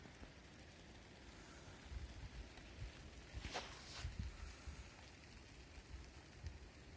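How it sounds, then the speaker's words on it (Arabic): Hail falls outdoors as a faint, continuous patter of small impacts, with a few slightly louder hits midway. The sound is quiet and steady, with no talk. "راني غير نزيدكم البرد، تسمعوا البرد تبارك الله"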